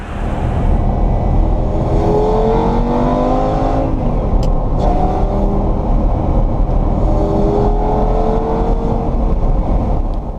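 A 2006 Lamborghini's engine runs loud and close as the car pulls out, its drone rising and falling through gentle revs and gear changes with a steady rumbling hum throughout.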